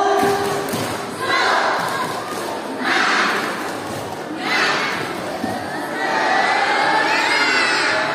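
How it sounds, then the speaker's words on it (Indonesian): A group at an Islamic early-childhood graduation ceremony in Sukabumi performs a tepuk semangat clapping chant, with bursts of shouted chanting and claps coming in waves, crowd voices rising and falling over several seconds. "tepuk semangat."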